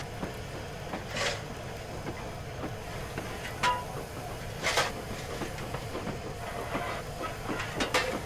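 A Bulleid Q1 0-6-0 steam locomotive in Train Simulator, running with a steady rattling rail rumble and clickety-clack, faint chuffs and a few sharp hissy bursts spread across the stretch, moderately distant and without talk.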